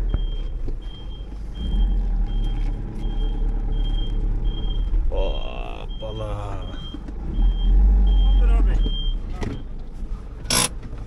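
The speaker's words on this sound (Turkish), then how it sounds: "Arabamı şöyle park edeyim önce." A car's reversing beeper repeats a steady high-pitched beep at regular intervals while the car parks, over a low engine rumble and some clatter, loud and close.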